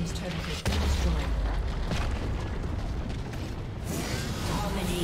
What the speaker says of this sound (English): turret has been destroyed.